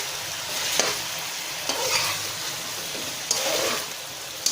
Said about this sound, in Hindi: अब हम इसकी 5 मिनट तक अच्छी से भुनाई करेंगे